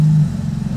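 Aftermarket exhaust on a supercar in Monaco rumbling close by, a loud steady low drone that eases slightly after a brief held tone at the start.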